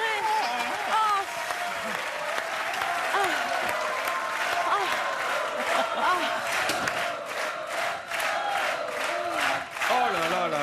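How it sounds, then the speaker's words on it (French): A studio audience in a wildly excited cabin applauds loudly and steadily after a team win, dense clapping mixed with cheers, whoops and overlapping shouting voices throughout. "On peut applaudir très fort, c'est ma Dream Team."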